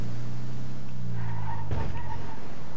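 A car in GTA 5 Online towing a caravan, its engine droning loud and close as it speeds along, then a sudden thump and a brief skid near the end.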